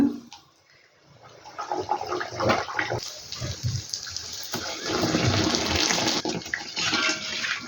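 Mangalore banana buns frying in hot oil, a steady broadband sizzle and bubbling that swells louder through the second half, with a few clinks of utensils near the start.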